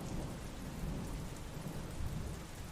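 Steady rain with rolling thunder during a cold downpour near a station, a dense continuous wash of loud close rainfall and low rumbling throughout, no voices.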